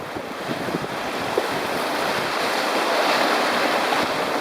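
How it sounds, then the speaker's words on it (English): A boat surfs swells and punches through chop, giving a steady rushing wash of water and heavy wind buffeting the microphone throughout. "we're surfing a few swells, breaking through a little chop"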